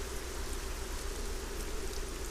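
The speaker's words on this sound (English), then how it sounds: "are you and Xardas just admiring the rain?" Steady rain falling in the fantasy video game ArcaniA at the Lord Dominique arena, a constant broadband hiss of drops pattering on surfaces with no pauses, fairly quiet and even throughout.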